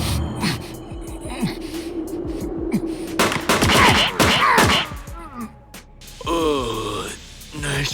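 Gunfire in a Grappler Baki anime fight scene: sharp percussive shots and impacts mixed with groans and strained voices, dense and chaotic over a few seconds, with a scream-like voice near the end.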